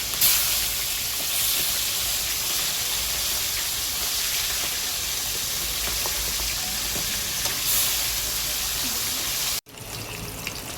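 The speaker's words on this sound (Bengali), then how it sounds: "প্রথমে কড়াইয়ে তেল দিয়েছি, তেলটা গরম হয়ে এসেছে। এবার মাছগুলো আগে ভেজে নেব।" Pomfret fish frying in hot oil in a wok, a loud steady sizzle and hiss filling the whole stretch, ending in a sudden drop and a quieter sizzle.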